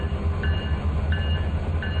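A train runs on rails in the Trainz 2019 railway simulator, a loud steady low rumble of wheels with faint repeating metallic tones on top and no talking.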